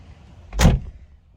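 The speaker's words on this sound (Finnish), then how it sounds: "Laitanpa tuosta ovet lukkoon." A car in a library parking lot locks its doors with one sharp, broadband thunk-like clunk midway, near and fairly loud over quiet background, with no talking.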